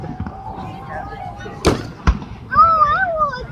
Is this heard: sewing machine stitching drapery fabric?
no